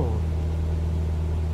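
A simulated light aircraft engine, apparently a Cessna at full throttle during a climb, drones steadily with a loud, even low hum and no spoken words over it.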